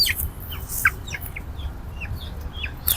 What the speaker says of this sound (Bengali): এটিতে এটি সব দামি মুরগি 900 টাকা জোড়া